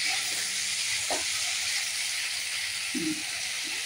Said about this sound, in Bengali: আমি বেগুন না পুড়িয়ে অল্প একটু তেল দিয়ে এই কড়ার মধ্যে একটু নরম করে নিচ্ছি